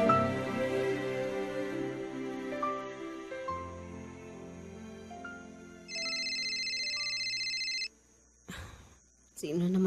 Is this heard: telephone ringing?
yes